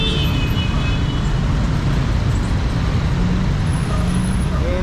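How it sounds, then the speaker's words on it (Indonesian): Trans Metro Medan city bus moving through busy afternoon street traffic in Medan, Indonesia, a loud constant engine and road rumble with no clear pauses. "Ada bus Trans Metro Medan."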